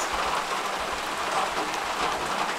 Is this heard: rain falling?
yes